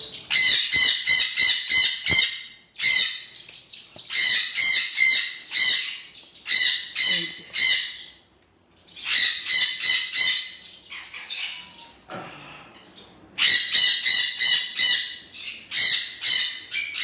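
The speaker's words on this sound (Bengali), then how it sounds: "এই পাখিটা খুব চিৎকার করে" Birds squawk and call loudly and close by in repeated bursts of harsh, rapid notes with short pauses between them, heard on a family visit to a village home during Eid.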